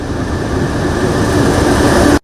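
A train rolls steadily along a railway line near Rigasa community, a loud continuous rumble with clattering wheel noise and a faint high tone, running alone before cutting off abruptly at the end.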